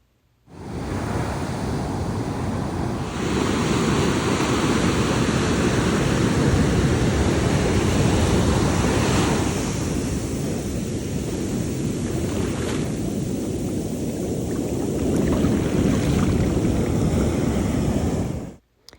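Ocean waves break at Pipeline beach on the North Shore, a loud, steady roaring wash of surf with wind noise that continues for the whole stretch, with no voices.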